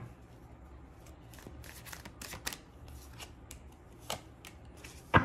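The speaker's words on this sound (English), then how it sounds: "Let me pull out a few more cards guys." Tarot cards being pulled and shuffled during a love reading: quiet papery flicks and riffles scattered across the stretch, with a few sharper snaps near the middle and a crisp louder slap right at the end, no talking.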